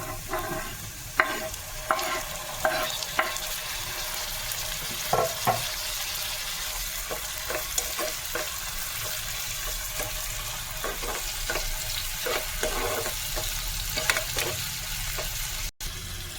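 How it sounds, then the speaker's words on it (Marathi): Onion and tomato sizzle steadily as they fry in a pan for spicy mutton sukha, with a spoon scraping and stirring in intermittent knocks and clacks over the constant hiss. "मस्तपैकी कांदा टमाटर भाजून घेऊया आपण"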